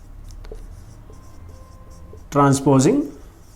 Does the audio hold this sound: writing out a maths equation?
yes